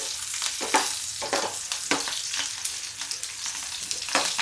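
Vegetables splutter and crackle in a pan while cooking for masoor dal, with repeated sharp pops and bursts of sizzle over a low steady hiss, close and fairly loud, no voices.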